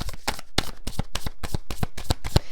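Tarot cards are shuffled for a reading in a quick, even run of crisp riffling bursts, about a dozen in under three seconds, close and clear with no talking.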